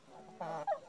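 A rooster clucks in a short, close burst, harsher and louder toward the end, with no talk over it.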